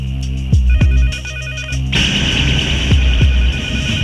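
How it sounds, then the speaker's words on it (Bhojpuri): A telephone rings loudly at night in a dramatic film scene, its electronic warbling tone repeating over low throbbing music and deep booming hits. "इतना रात के गुंडन के फोन आवेला, कोई फोन ना उठी"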